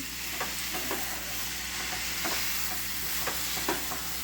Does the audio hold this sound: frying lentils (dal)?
yes